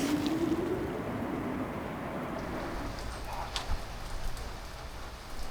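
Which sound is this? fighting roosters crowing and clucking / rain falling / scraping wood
rain falling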